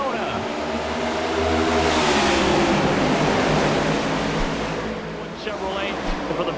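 Stock race cars roar around Daytona in iRacing, a loud, sustained pack engine drone that swells and fades as the field thunders past, with a commentator talking over it.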